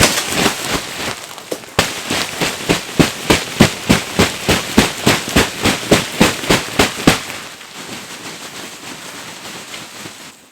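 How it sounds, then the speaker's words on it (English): Snow being beaten off a tent roof in winter: a fast, even run of about twenty loud, sharp thumps, close by, that stops abruptly and leaves a low rustling background. "I gotta beat off the roof, get the snow off."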